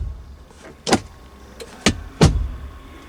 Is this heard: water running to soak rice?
no